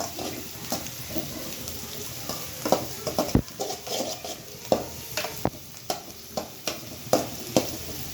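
Ginger garlic paste fries in a pan for egg rice, a soft constant sizzle broken by sharp, regular scrapes and taps of a spatula stirring it, fairly close and with no talk.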